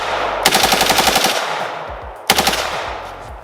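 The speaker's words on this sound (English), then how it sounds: "Let's shoot this thing like a machine gun's supposed to be shot." An AKS74U rifle fires in full-auto, a loud, rapid burst of about a dozen shots followed by a shorter burst, outdoors at close range.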